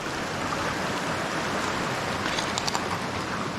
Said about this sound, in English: We got a little mini falls